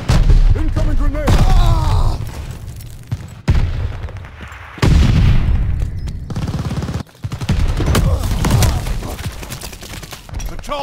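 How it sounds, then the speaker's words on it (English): Grenade explosion and gunfire in Call of Duty: Vanguard multiplayer on PC: loud, dense bursts of shots and booms with abrupt cuts between them, continuing throughout, with voice callouts mixed in. "Incoming grenade!"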